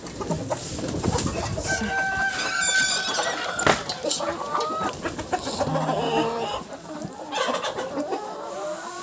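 Several chickens cluck and squawk nearby in an excited jumble as they are given crushed shells, with a voice talking intermittently underneath.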